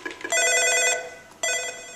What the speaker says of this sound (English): From this other phone, I'm going to call this extension